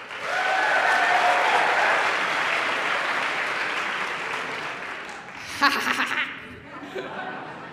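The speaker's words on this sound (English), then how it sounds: "clap if this is your first time at Ignite" Audience at an Ignite Seattle show breaks into sustained, dense clapping that slowly fades, followed by scattered laughter and a few voices toward the end.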